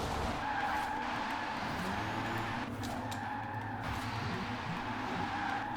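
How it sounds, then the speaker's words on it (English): Continuous tire squeal from a Rimac C Two electric hypercar drifting in Forza Horizon 4, a steady skidding screech with engine and road noise underneath at a moderate level. "this is such an easy car to drift"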